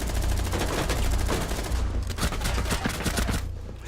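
Rapid bursts of gunfire in a Rainbow Six Siege ranked match on PS4, dense overlapping shots thinning into scattered pops and brief gaps near the end.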